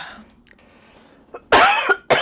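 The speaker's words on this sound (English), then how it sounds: "I was really trying not to cough." Someone coughs sharply, once hard and then a second shorter burst, close and loud after a quiet moment with faint background sound.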